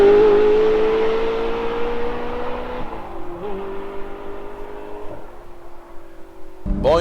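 Manual-gearbox Ferrari 360 Spider engine revving high and then falling off, a sweeping whine that drops and steadies, with short pitch changes and a brief sharp burst near the end.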